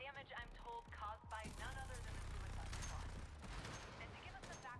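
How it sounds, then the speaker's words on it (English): Gunfire and fusillade bursts in a Suicide Squad: Kill the Justice League battle, crackling over a dense low rumble of combat noise and mixed with character voices. "Being shot at."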